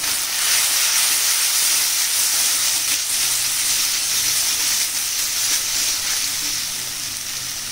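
Meat curry with tomatoes, salt and turmeric sizzles and hisses steadily in a pan for a chicken dish with jackfruit seeds and pointed gourd. The frying sound is close and constant, with no talking.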